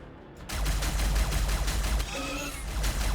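Multi-laser weapons firing in Warhammer 40,000: Battlesector as Imperial Guard armour engages enemy tanks, a dense burst of rapid crackling shots and booms over a low rumble, with high whining tones near the end.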